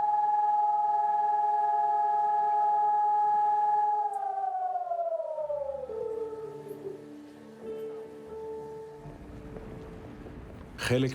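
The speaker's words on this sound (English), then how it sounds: "on Yom HaShoah, or Remembrance Day, air raid sirens in Israel ring out at 10 a.m." Air raid sirens sound across Israel on Yom HaShoah, Remembrance Day: a loud, steady multi-tone wail holds for about four seconds, then slowly winds down in pitch and fades into quieter background noise.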